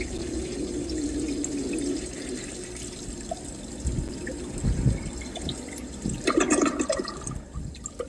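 A toilet flushes as a sound effect, a loud rushing swirl of water that drains away and settles into a trickle and refill.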